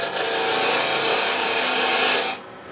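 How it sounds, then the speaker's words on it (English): Record Power parting tool cutting a 3/16-inch tenon into spinning wood on a lathe, a loud, steady rasping hiss of the cut lasting about two seconds before stopping abruptly into quiet. "In this case, I'm going to put the tenon on with a parting tool, 3/16 of an inch."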